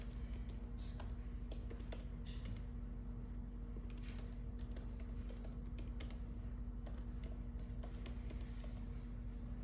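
Steady keyboard typing continues throughout as text is entered into a design tool, with dense irregular key clicks over a constant low background hum and no talking.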